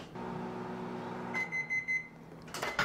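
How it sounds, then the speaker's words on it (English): A microwave oven runs with a steady hum while warming microwavable hair-removal wax, then sounds a short series of beeps as it finishes, followed by a door or handling noise. "we're just warming it up in the microwave"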